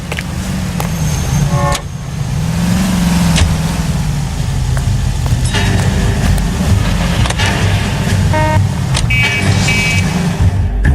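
Car driving in the 1940s Los Angeles game LA Noire, a loud, steady engine hum with road rumble and a few clicks and tones on top.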